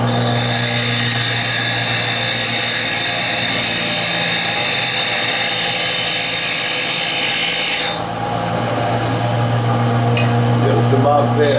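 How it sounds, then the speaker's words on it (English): Grinding on a knee mill while making an annular cutter adaptor: a steady high-pitched whine with a constant motor drone runs for about eight seconds, then drops away into quieter machine hum. "All right, it's time to grind."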